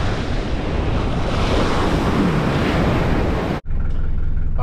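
Strong wind buffets the microphone and surf crashes continuously along a rocky shore during land-based snapper fishing, loud and steady, then cuts out abruptly near the end.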